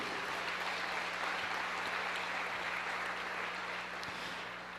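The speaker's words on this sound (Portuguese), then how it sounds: "Você pode aplaudir ao Senhor" A church congregation applauds together, a dense, even wash of clapping that stays steady and fairly distant for several seconds without speech.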